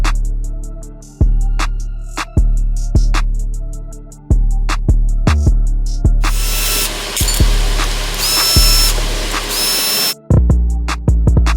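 A power tool, likely an impact driver or drill, tightens loose battery bolts inside a subwoofer box, firing repeated loud short bursts; a denser, longer whirring run sits in the middle of the sequence.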